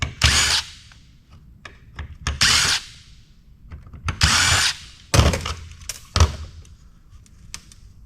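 A power screwdriver backs screws out of an e-waste heatsink that holds MOSFETs, sounding as several short close whirring bursts separated by pauses and small clicks of handling.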